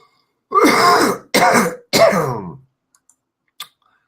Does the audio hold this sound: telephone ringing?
no